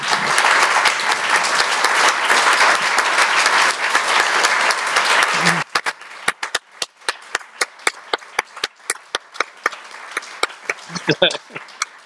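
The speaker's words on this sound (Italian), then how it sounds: "facciamo un applauso per la disponibilità" Audience applauding after an Italian book presentation at a culture festival, a dense loud burst of many hands for about five seconds, then thinning into scattered individual claps.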